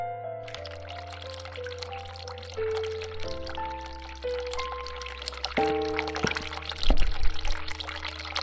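Hot water running in the video game The Cat Lady, a steady pour and trickle under sustained low musical tones, moderately quiet, with a brief louder splash near the end.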